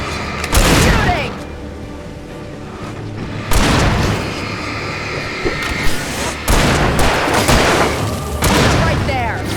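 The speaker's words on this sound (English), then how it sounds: "Shooting!" Gunfire in the video game Alan Wake sounds as several loud booming shots spaced a few seconds apart over a dark, noisy backdrop, with a player talking.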